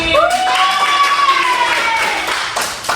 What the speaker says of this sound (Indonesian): Beri tepuk tangan dulu, Rizky.